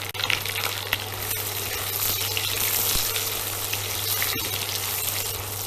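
Potatoes and onions fry together in a pan with a loud, continuous close-up sizzle. Occasional soft clicks come from stirring, and there is no talking.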